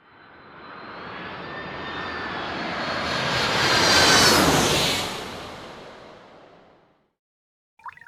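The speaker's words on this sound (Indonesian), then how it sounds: "keluarlah pesawat terbang." Toy airplane engine sound, a propeller-plane drone that swells to a loud peak as if passing close, then fades away, followed by a brief click.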